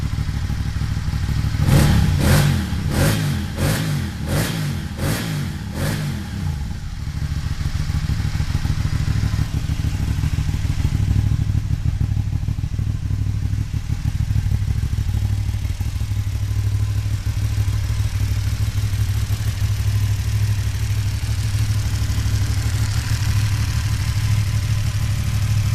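Aprilia Dorsoduro 1200 motorcycle engine idling, a steady low rumble held evenly throughout, with a few sharp rhythmic clicks over it at the start.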